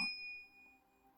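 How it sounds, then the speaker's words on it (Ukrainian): A notification bell sound effect gives a single bright ding that rings out and fades over about a second, alone and quiet. "Активований вами дзвіночок активує сповіщення про всі наші відео."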